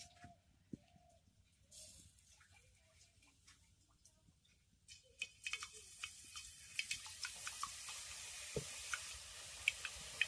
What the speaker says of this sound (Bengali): আরও একবার আপনাদের দেখাচ্ছি কিভাবে আমি বোঁদেগুলোকে ভাজছি